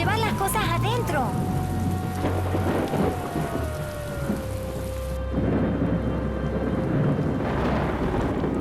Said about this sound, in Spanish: ¡Se viene la tormenta!